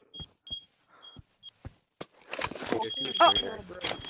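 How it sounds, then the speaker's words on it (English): A smoke alarm gives short, high, piercing chirps at a steady interval, each one brief and sharp. A burst of excited voices and clatter then rises over the chirps. "Bro, fix your smoke alarm. Turn it off."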